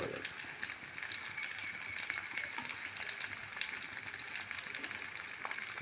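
Garlic, green chillies and curry leaves frying in oil for a bilimbi pickle give a steady, dense crackling sizzle throughout, close and even, with faint talking underneath.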